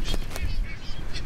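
A booby seabird on Clipperton Island gives a few short, hoarse honking calls, close by, with a low rumble of wind or surf underneath.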